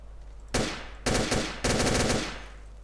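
A 9x19 gun firing in S.T.A.L.K.E.R., with loud, close bursts of rapid automatic shots in three runs, each fading into a ringing tail over a low hum.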